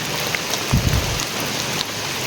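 Steady rain falls in a village, a continuous hiss of drops on surfaces with a brief low thump partway through, fairly loud and without voices.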